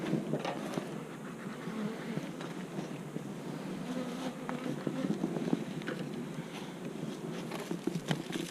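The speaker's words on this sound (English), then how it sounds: "Get off there, bees." Honeybees swarm around an open beehive with a little feed left on the frame, giving a steady, close buzz alongside scattered outdoor rustling and faint wind for the whole stretch.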